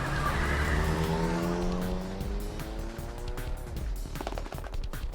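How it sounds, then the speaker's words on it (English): A taxi engine revs up to speed as the cab lurches off, the loud motor rising steadily in pitch over several seconds alongside tire noise, with no voices. "The taxi lurched into motion, the engine quickly revving up to speed."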